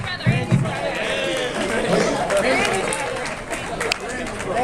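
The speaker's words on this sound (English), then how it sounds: "let's have a round of applause for Jeremy's brother" Wedding guests give a round of applause for the groom's brother during a toast, with dense clapping mixed with chatter and murmuring voices that keep going throughout.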